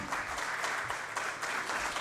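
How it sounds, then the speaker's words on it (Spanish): A crowd at a bicentenary celebration of La Rioja province's autonomy applauds guitarist Fernando Álamo after a folk music performance; steady, moderately faint clapping continues evenly throughout. "Fernando Álamo, un fuerte aplauso."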